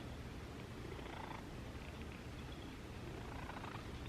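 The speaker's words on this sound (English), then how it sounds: "Oh, now you want to start purring?" A steady, low rumbling purr from a cat, continuous and close, with no talking over it.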